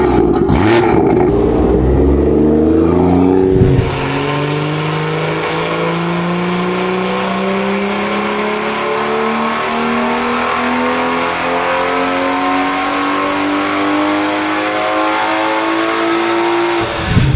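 A BMW B58 engine with a hybrid turbo, strapped to a dyno, howls loudly from a low idle-like growl up through a long steady rising rev sweep lasting over ten seconds, with a sharp throttle blip at the start and a sudden drop at the end.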